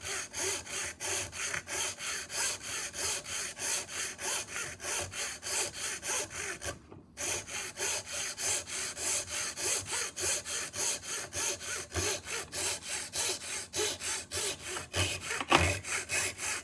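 Hand sawing through an IDC connector adapter, steady rapid back-and-forth rasping strokes up close, continuous with one brief pause midway.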